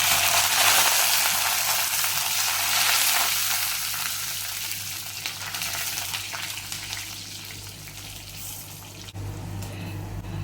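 Green chillies, dried red chillies, ginger and curry leaves sizzle steadily in hot oil in a pan for an egg curry, a loud continuous frying hiss that eases slightly toward the end, with no talking.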